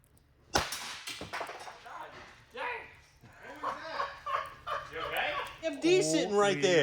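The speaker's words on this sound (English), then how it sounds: "That ball joint just blew out" A Porsche 911 Turbo suspension ball joint bursts out of its upright under heat with one sudden sharp bang, followed by people talking and laughing nearby.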